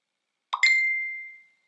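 Xiaomi Mi Note 10 message notification chime: a soft plop followed by a bright sustained ding that rings out and fades over about a second, heard alone and close with silence around it.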